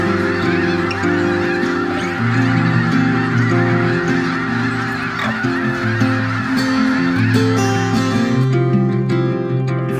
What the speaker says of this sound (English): you get to see and hear hundreds, sometimes thousands of birds lifting off as the sun sets